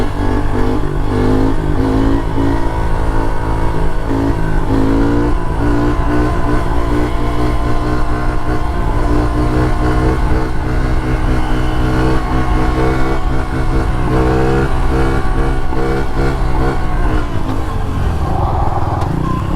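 A pit bike fitted with a PAX intake pulling hard in third gear, a loud continuous buzzing engine note that climbs steadily in pitch with a brief dip near the end.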